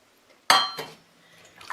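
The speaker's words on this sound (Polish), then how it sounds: "i teraz także dorzucę obrane i pokrojone w drobną kostkę ziemniaki. oraz pozostały kalafior." Peeled, finely diced potatoes and cauliflower drop into a soup pot with a sharp clattering hit, then a smaller second clunk and faint rustle, close by and brief.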